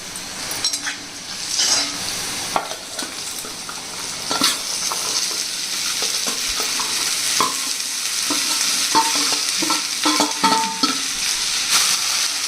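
Okra fries in a pan with cumin and turmeric while a utensil stirs it steadily, a continuous loud sizzle under repeated scraping and light clinks of the spoon against the pan.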